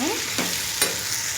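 A spoon stirs turmeric into a pan of mixed bendakay and dosakay curry, giving a steady low sizzle with two brief scraping strokes, close by and with no voices.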